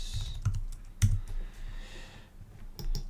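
Short clusters of keystrokes sound close and quiet as text is typed into a phone app, with brief pauses between bursts.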